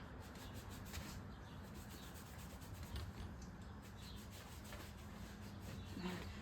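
Cloth rubbing over leather tall riding boots in steady, continuous scrubbing strokes, close and soft with a dry, brushing texture and no talk.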